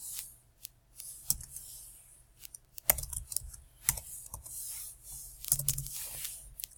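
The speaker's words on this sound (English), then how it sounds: "And I'm going to put a password." A password being typed on a computer keyboard: irregular bursts of light, close key clicks with short pauses between, a few louder taps standing out, no one speaking.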